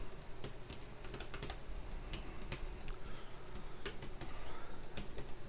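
Code being typed on a computer keyboard makes rapid, fairly close clicking keystrokes in irregular bursts, running steadily throughout with no voices.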